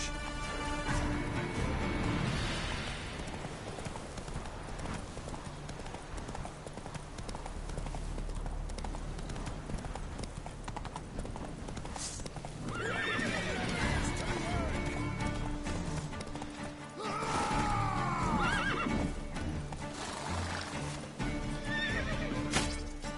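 Hoofbeats of a horse galloping in The Witcher 3 video game, a steady clip-clop rhythm running throughout with repeated loud neighs and whinnies, layered over game music and ambient effects.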